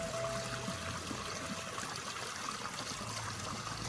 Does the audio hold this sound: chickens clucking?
no